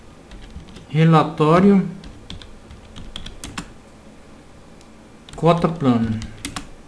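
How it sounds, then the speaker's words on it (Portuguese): A computer keyboard is typed on in short bursts of quick, close clicks, under and between a man's speech in Portuguese. "Eu vou digitar o número do relatório."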